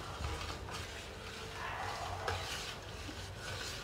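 A spoon stirs chopped jaggery into colostrum milk in a pot, making a soft continuous scraping and sloshing with faint clinks, close and fairly quiet.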